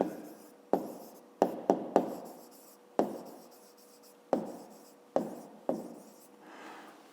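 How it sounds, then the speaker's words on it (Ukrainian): Pen writing an answer by hand for a fifth-grade maths exercise: close, crisp strokes and taps in irregular bursts over about seven seconds, with no talking. "а тепер записуємо відповідь"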